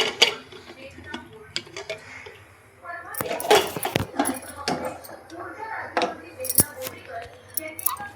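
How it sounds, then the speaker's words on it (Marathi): A pressure cooker lid is put on in a home kitchen: a few sharp metallic clanks and rattles of the lid and pot, close by and irregular, over quiet room noise. "कुकरचं झाकण लावलं"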